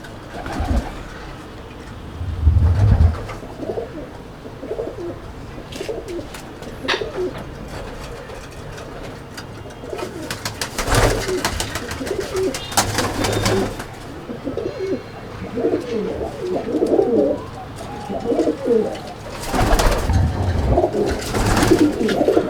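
A loft full of male pigeons keeps up a chorus of low, rolling coos, many birds calling over one another close by, punctuated by occasional louder bursts of wing flaps or shuffling.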